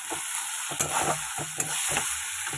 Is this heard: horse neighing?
no